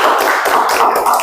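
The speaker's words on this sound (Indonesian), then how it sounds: "Ayo semuanya berikan tepuk tangan." A school class applauding a student group, dense close clapping from many hands, loud and continuous for about a second.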